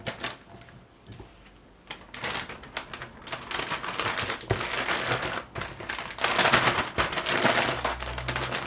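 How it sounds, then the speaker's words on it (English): Chicken wings are shaken in a bag with corn starch, producing dense crinkling, rustling plastic and rapid clattering bursts that grow louder and more continuous toward the end. "Just gonna put them in the bag and coat them in the corn flour or corn starch."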